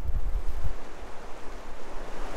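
A river rushes steadily where its bridge is gone, leaving only the abutments; broad, continuous water noise with a windy, surf-like roar fills the whole stretch, loud and close.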